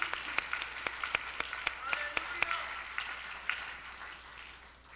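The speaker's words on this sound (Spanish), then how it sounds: "Un aplauso fuerte por estos." Church congregation breaks into applause, with distinct sharp claps in a loose rhythm at first that blend into a softer wash, fading out while voices carry faintly beneath.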